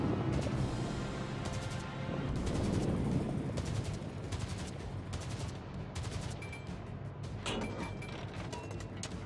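Guns fire in repeated salvos from the stock destroyer Isokaze in World of Warships, a run of booming shots over a rumbling battle background with no talking.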